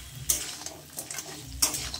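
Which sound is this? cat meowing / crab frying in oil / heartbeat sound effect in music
crab frying in oil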